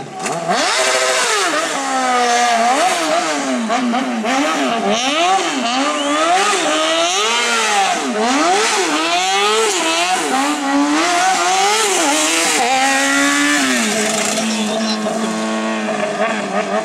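A stunt motorcycle engine in a street fighter show, revving hard and loud, repeatedly rising and falling in pitch as the throttle is worked, close and sustained throughout.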